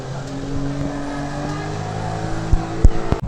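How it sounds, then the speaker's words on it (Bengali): A speedboat pulls away from a ghat on the Padma river, its engine drone steady and fairly loud, with a few louder knocks and bumps near the end. "এখান থেকে স্পিড বোটও রয়েছে এই যে স্পিড বোট ছাড়লো একটি মাত্র"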